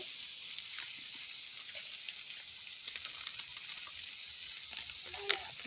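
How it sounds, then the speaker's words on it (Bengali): Boiled vegetable stalks frying in a pan with coriander powder for a mustard stalk dish, giving a steady close hiss of sizzling oil throughout, with a few faint clicks near the end and no talking. "এখন আমি একটু ভেজে নেব এটাকে। দেখুন, এর মধ্যে আমি একটু দিয়ে দিচ্ছি ধনে গুঁড়ো"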